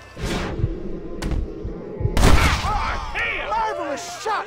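Gunshots in Red Dead Redemption on PS4, a few sharp, loud cracks spaced apart with booming low thuds, followed by a whistling, warbling tail under a busy game mix.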